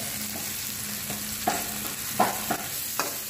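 Noodles with cabbage and egg being stir-fried in a pan give a soft steady sizzle, with a handful of sharp utensil scrapes and taps on the pan at irregular intervals.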